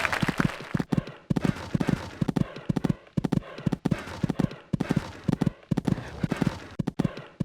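Galloping hoofbeats from a show-jumping round in the game Equestriad 2001, repeating triplet-like thuds with short gaps at each jump, close and steady throughout.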